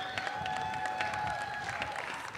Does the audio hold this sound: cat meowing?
no